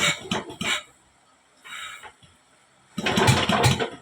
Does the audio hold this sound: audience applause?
no